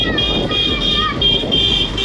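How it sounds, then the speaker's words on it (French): Car horns honk in busy city traffic in Ayodhya, India: steady, overlapping toots ring out over a dense rumble of road noise, close and continuous throughout. "ça klaxonne beaucoup déjà."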